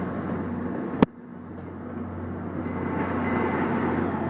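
Trains move at North Station, a steady low rumble that swells gradually over a few seconds, with one sharp metallic clank near the start and no voices.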